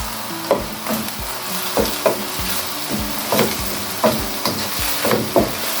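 Lauki qeema being stir-fried in a pan, a steady sizzle broken by a series of regular scraping strokes of a spatula against the pan, close and clear with no talking.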